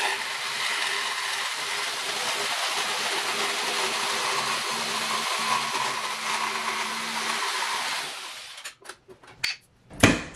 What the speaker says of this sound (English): I essentially have a box drawn here that I need to cut out with the jigsaw